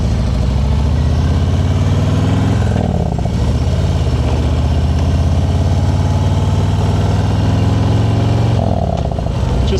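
A motorcycle engine drones loud and close during a ride, a steady mid-pitched roar with slight shifts in revs and a brief dip near the start and end.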